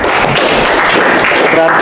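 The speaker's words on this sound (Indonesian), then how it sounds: "Oke, tepuk tangan dulu." An audience applauding in a teaching assessment session: dense, loud clapping fills the moment close by, with a voice briefly audible near the end.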